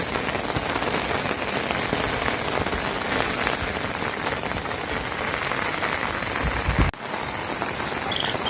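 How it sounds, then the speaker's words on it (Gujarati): Heavy rain pours down steadily near a hillside pond during monsoon showers, a loud, dense hiss of drops on surfaces that continues unbroken apart from one brief dip near the end. "પણ જોરદાર વરસાદ શરૂ થઈ ગયો છે"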